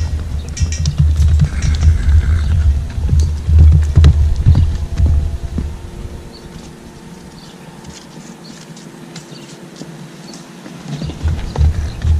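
Hooves of a retired quarter horse knock in irregular clip-clops with low thumps, loud and close at first, then quieter with faint mechanical clicks, with no talking.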